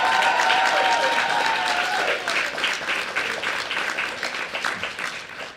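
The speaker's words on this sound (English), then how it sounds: "Can we give everybody just one more big round of applause?" An audience at a Black History Month arts program breaks into loud, sustained applause, the dense clapping carrying on after a brief cheer or whistle early and thinning slightly toward the end.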